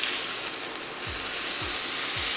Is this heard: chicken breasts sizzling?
yes